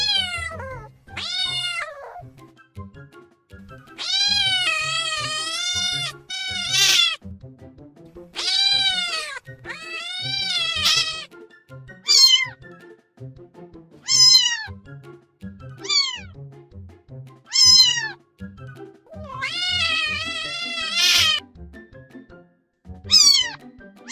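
A domestic cat meows again and again, close and clear, in a long series of drawn-out and rising calls with short pauses between them. The cat is heard alone, with no other sounds.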